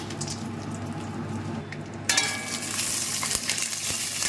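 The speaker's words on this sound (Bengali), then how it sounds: "দেখো, বাদামগুলো ভেজে নিলাম কিছুটা ঘিয়েতে।" White peanuts fry in ghee, starting as a low bubbling hiss and jumping to a louder, bright crackling sizzle partway through as stirring continues, close and without speech.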